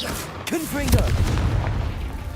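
A Confringo spell goes off in Hogwarts Legacy as a sharp crack that swells into a rumbling blast, with a brief voice-like tone at the start and low rumble trailing after.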